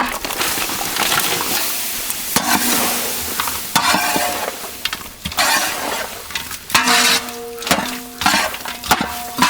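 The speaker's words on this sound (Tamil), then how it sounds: "நெய்யில வதக்கின நாட்டு கோழி கறி" Country chicken sautés in pure ghee in a village cooking pan, a steady sizzle broken by scraping, clattering stirs of a spoon against the pan.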